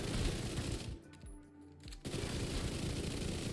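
Video game gunfire from a solo striker hybrid build, dense rapid bursts of shots, briefly cut off in the middle, then continuing loud and unbroken.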